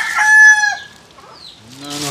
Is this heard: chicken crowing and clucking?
yes